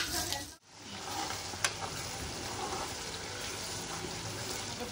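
Tomato masala sizzling steadily in a pan while being stirred, a continuous close frying hiss with a brief dropout near the start and occasional soft scrapes, no talk.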